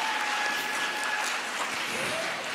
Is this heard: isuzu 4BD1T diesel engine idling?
no